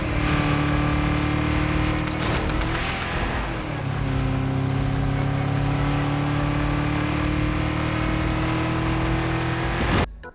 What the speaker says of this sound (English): Engine sound is pretty basic, not much to say there.